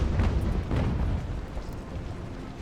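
Heavy artillery guns firing in a UGAR battle at Fort George, heard as a continuous loud rumble of booms and blasts packed together, with a couple of sharper explosive bursts near the start and no talk over it.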